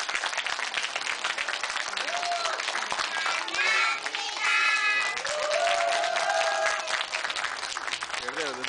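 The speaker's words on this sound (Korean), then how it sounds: "우리 친구에게 큰 박수 부탁드리겠습니다" An audience claps and cheers for a fan dance performance, dense applause mixed with crowd voices, excited calls and children's chatter over a busy, lively room.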